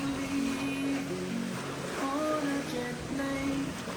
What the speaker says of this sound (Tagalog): maririnig mo lang yung sound ng alon